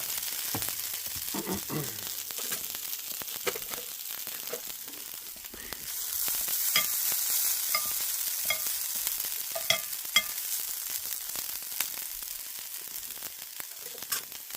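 Potatoes fry in a pan at home as a soft sizzle under repeated scraping and stirring strokes from a utensil, with irregular clicks and scrapes close by that grow a little busier halfway through.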